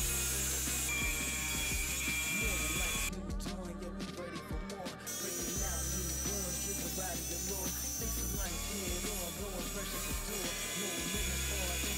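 A glued CyberTruck headlight assembly is cut apart, making a continuous scraping, rasping sawing sound with repeated strokes and a brief clattering patch partway through, fairly loud and close throughout.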